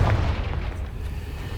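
A Confringo spell blast from Hogwarts Legacy lands as a heavy, booming burst at the start, then fades into a rumbling, fiery tail.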